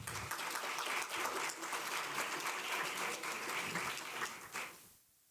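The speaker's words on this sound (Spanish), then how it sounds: "Vamos a darle un fuerte aplauso al señor Eric Dorrejo." A seated audience at a public forum on infrastructure gives a strong round of clapping for the vice minister of housing policy and planning, a full, steady patter of many hands that dies away quickly just before the end.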